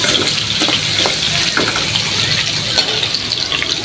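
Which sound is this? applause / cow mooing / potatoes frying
potatoes frying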